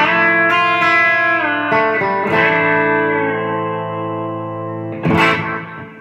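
An electric guitar fitted with a B-bender plays country rhythm, sustained chords with pitch bends rising within them and a strummed accent near the end, close and clear with no talking.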